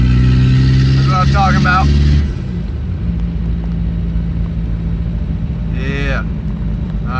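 A new Volkswagen Passat drives off and accelerates up the road, a steady low engine drone with a louder roar at first that settles into a distant hum, with someone talking excitedly at the start and a brief voice later.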